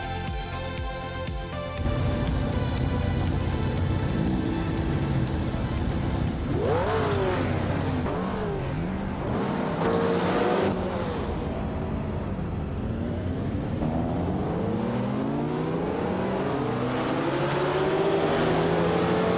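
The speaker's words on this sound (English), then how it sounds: "the race is off at Los Arcos Rallycross, and leading the pack is Smart E in a classic 1988 Porsche 944 Turbo S" Several rally cars, including a 1988 Porsche 944 Turbo S, race on a dirt-and-tarmac rallycross track in a game. Loud engines rev and climb through the gears, tires squeal, and the roar stays continuous and close throughout.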